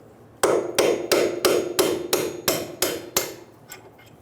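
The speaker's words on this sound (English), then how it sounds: "Using a hammer and a punch, I'm going to remove the bolt." Eight sharp metallic strikes of a hammer on a punch, driving out a bolt on the front suspension knuckle of a 2000-2007 Ford Focus, ring out in a steady rhythm, close and loud, followed by a faint tap.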